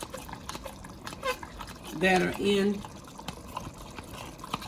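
A cornstarch slurry pours into a pot of homemade turkey chili with a brief liquid glugging and splashing, close and clear, while a person talks over it.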